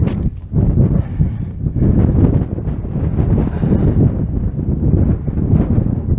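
Strong wind gusting across an exposed ridge near the summit of Grizzly Peak, a Colorado thirteener, roaring steadily and loudly against the microphone throughout with buffeting surges.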